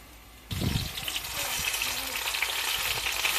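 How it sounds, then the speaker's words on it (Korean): Dried pollock hits generous hot oil with a sudden burst of loud sizzling that settles into a steady, bubbling fry close by. "기름을 좀 넉넉하게 해가지고 배쪽부터 살짝 튀깁시다"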